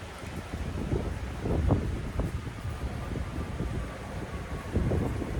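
Wind buffets the microphone on an outdoor deck, a steady rushing noise broken by low gusty thumps, loud and close throughout, with no voices.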